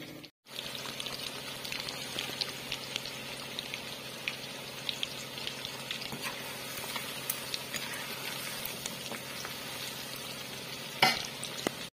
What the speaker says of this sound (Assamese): এনেকৈ ভাজি ভাজি থৈ দিম